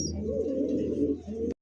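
A pair of Rasgolla pigeons, black with pink beaks, coo steadily and close up in a continuous low burbling run that cuts off abruptly.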